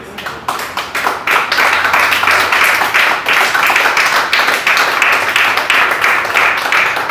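A church congregation claps for the Lord, loud, close rhythmic hand claps repeating steadily, with a brief dip early before the clapping resumes at full strength.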